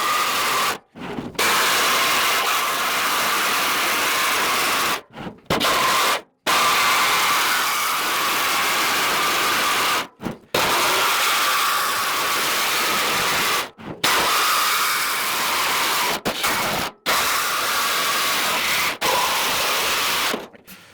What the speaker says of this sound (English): I'm just gonna use a jigsaw with a metal cutting blade in it, and I'm gonna cut that circle out here